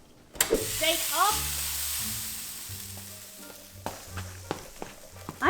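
Steak and vegetables sizzle steadily in a hot pan, a constant close hiss with scattered clinks and scraping stirs, and a voice speaks briefly over it.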